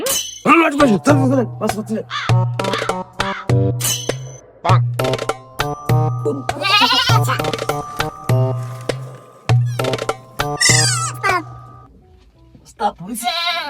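A goat bleats again and again, loud and close, in short repeated cries with brief gaps, over a strong low steady tone, with voices heard around the calls.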